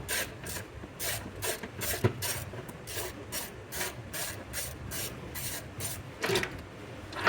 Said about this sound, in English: there is one more bracket down here, corner bracket. So we'll want to remove that 13 millimeter off.